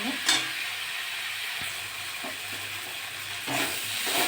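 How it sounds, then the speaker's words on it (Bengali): Spice masala being fried and stirred in a pan while cooking a ridge gourd, potato and fish chorchori with tomato, giving a steady close sizzle with occasional scraping stirs and a couple of sharper clinks. "ভালো করে কষে নেবো মশলা"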